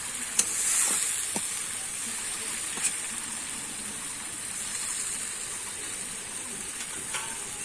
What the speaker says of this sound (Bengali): এই জলটাই কিন্তু দিয়ে আমি আস্তে আস্তে করে ফুটিয়ে নেব